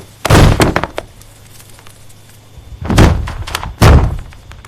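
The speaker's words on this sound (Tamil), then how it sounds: "சடனாக ஒரு ஆள் வந்து கதவு தட்டுற மாதிரி இருக்குது." Heavy knocking on a door, a few loud, booming thuds in short clusters separated by pauses, close and forceful with no voices.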